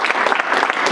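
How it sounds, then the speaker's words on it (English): Indoor event audience breaking into dense, loud applause, many hands clapping continuously and evenly for the full second. "Let's give a big round of applause."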